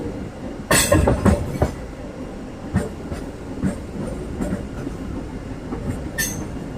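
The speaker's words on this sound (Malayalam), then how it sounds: "പാലക്കാട് റെയിൽവേ സ്റ്റേഷനിൽ നിന്നും പുറപ്പെട്ട നമ്മുടെ ട്രെയിൻ" A MEMU passenger train leaving Palakkad Junction rolls along the rails with rhythmic clacks and rumbling, sharp metallic bursts near the start and end, no voices.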